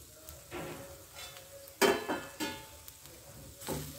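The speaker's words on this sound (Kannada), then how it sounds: "ಈಗ ಮೆಣಸನ್ನು ಹಾಕ್ತಾ ಇದ್ದೀನಿ, ಮತ್ತು ಕರಿಬೇವನ್ನು ಸಹ ಹಾಕ್ತಾ ಇದ್ದೀನಿ." Black pepper and curry leaves roast in a pan, with faint, close stirring scrapes and light sizzling in several soft bursts.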